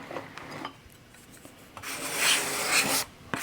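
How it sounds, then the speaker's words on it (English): Scraper blade rasping along a thin wooden spline clamped to a workbench, a few short scraping strokes followed by one longer, louder pass, close and without speech. "Then I can use a scraper blade"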